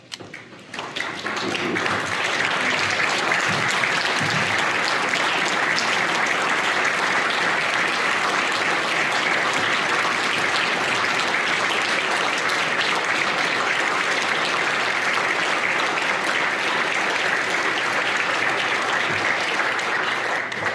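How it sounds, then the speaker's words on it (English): Steady, dense applause from a large audience standing at a 2021 high school graduation ceremony at Trinity Christian Prep, sustained and even at full volume for about twenty seconds. "stand and offer your appreciation and applause to the team at Trinity Christian Prep"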